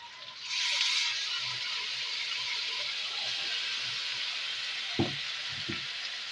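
Ginger, garlic, onion, chilli and cumin paste poured into hot oil flares into a loud, steady sizzle that holds evenly, with a couple of sharp clinks of a spoon against the pan near the end.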